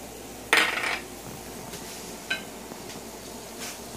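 Utensil scraping and clinking in a hot pan while garlic and onion bottoms are stirred: one sharp metallic clatter, then two fainter scrapes, close by and with no talk.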